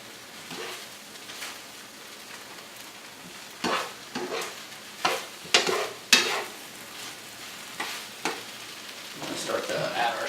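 Shrimp and broccoli stir-fry with a soy sauce, honey and cornstarch mixture being shaken and tossed in a pan, giving soft sizzling with several louder scraping, clattering bursts in the middle.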